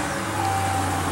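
A 2015 Ram 1500 pickup's 5.7-liter Hemi V8 idles with a steady, low rumble, close and continuous without variation over a short stretch.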